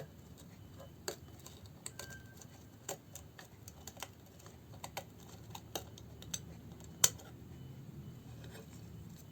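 Scissors snip through paper rope while making a tassel, a string of quiet, sharp clicks and cuts over a soft low room hum, one snap standing out louder near the end.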